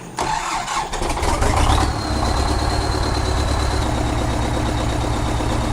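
A small truck in Farming Simulator 2015 cranks and starts with a brief rising whine, then settles into a steady, loud, close idle that runs on evenly without speech.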